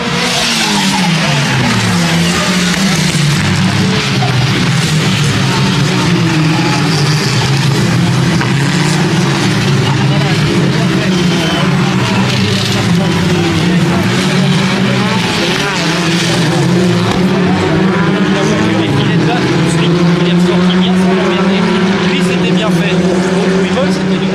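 Race cars accelerate back to speed after a safety car period at the Croix-en-Ternois motor festival. Loud, continuous engine roar with rising and falling pitch fills the whole stretch, and a voice talks over it.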